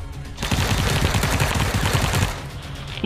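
Rapid automatic gunfire in the PUBG battle game rattles loudly and continuously for most of the clip, a dense burst of shots after a brief quiet start, with no talk over it.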